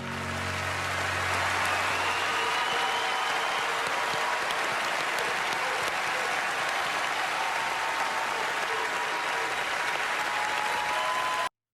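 An auditorium audience claps and cheers in dense, steady applause that goes on for over ten seconds at a constant level, with a low murmur under it at the start.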